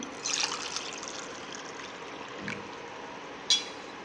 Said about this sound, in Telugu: సో ఈ వాటర్ నేను ఇప్పుడు ఒక గ్లాస్లో పోసుకుంటున్నాను